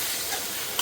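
Mushrooms frying in a pan and being stirred, an even close sizzle over a short moment with a small scrape near the end.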